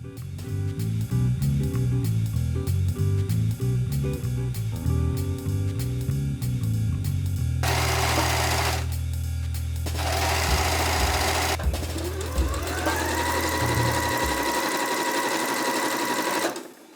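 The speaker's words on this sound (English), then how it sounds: "I'm then going to finish the edge with the serger." Serger sewing machine overlocking the hem edge of a handmade dress, a steady loud mechanical whirr with a rapid rattling pulse, changing pitch and speed across several long runs before stopping.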